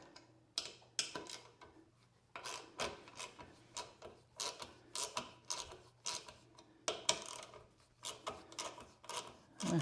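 Ratchet wrench driving a bolt down into wood, a quick series of clicking ratchet strokes in irregular bursts, close and fairly faint against a low steady background hum.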